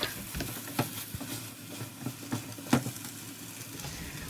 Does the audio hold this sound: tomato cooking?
yes